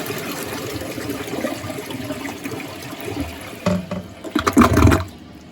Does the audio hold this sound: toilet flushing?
yes